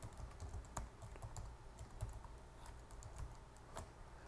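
Someone types a name and email address on a computer keyboard, giving quiet, close, irregular key taps in a quick run with nothing else around.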